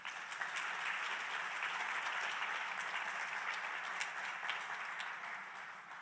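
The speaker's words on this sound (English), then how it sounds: "I think we can give one more round of applause to all our speakers this evening" A seated audience gives one more round of applause to the evening's speakers before a film screening. Continuous, even clapping fills the room for about six seconds and tapers slightly at the close.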